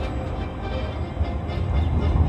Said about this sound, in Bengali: এই যে মেট্রো মানে ট্রাম, এটাকে বলে ট্রাম